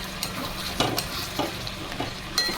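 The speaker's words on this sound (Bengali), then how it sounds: "একটু এখন কষাতে থাকবো যতক্ষণ না কালারটা চেঞ্জ হয়।" Potatoes and chicken curry are stir-fried in a pan, a loud, continuous sizzle broken by repeated sharp spatula scrapes and clacks every half second or so, with no voices.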